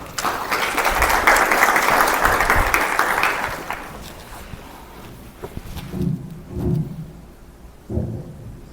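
Seminar audience applause welcomes a city council member to speak, a loud burst of clapping for about three seconds that fades out, followed by footsteps and low thumps as the speaker approaches.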